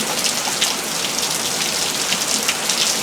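Steady rain falling outdoors in a Texas storm, a dense continuous hiss of drops striking surfaces, loud and close with no talking.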